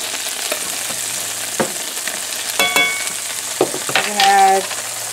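Curry powder and spices sizzle and fry in a hot cast iron pan, a constant crackling hiss punctuated by a few clinks and scraping stirs.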